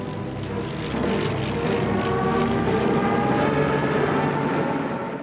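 Drone of World War II German Luftwaffe bomber and fighter plane propeller engines, a steady loud sustained roar with layered engine tones, no voices.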